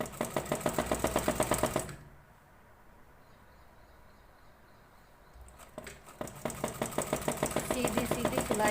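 A sewing machine stitches pieces of old fabric in a steady rapid chatter, pausing into near silence for a few seconds before running again, close and clear.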